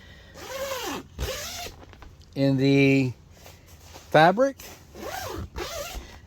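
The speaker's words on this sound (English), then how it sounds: "Nice zippers, nice working zippers." The door zippers on a Gazelle T4 instant hub tent are pulled open and shut several times, each a quick rasping stroke, with someone talking between the pulls.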